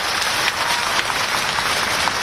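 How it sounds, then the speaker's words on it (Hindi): A large crowd at a political rally claps continuously in a dense, steady roar of applause that stays loud and even throughout, with no voices standing out above it. "तालियों की गड़गड़ाहट से धन्यवाद अर्पित किया जाए।"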